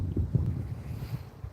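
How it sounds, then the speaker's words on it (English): Strong wind buffets a saltwater fishing pier in Florida, a steady low rumble of gusts battering the microphone with no voices. "It's just gotten so windy, it's almost difficult to fish."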